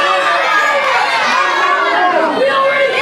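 A wrestling crowd jeers and shouts at Joe Krule, a dense, loud wall of overlapping voices and chatter that stays steady and close throughout.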